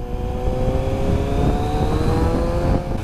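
A Kawasaki Ninja 1000SX motorcycle engine hums and revs steadily while being ridden on a morning road, loud and close, with a sustained droning tone and no talking.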